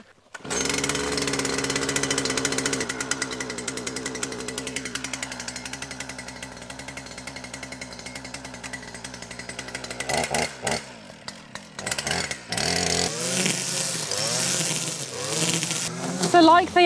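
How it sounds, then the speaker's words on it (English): A petrol strimmer starts up and runs loud and close while land is being cleared, a buzzing two-stroke drone with pitch shifts and a sweep as the throttle drops, breaking up near the end with someone talking. "I've got the strimmer ready. I'm going to fire it up and just get on with it."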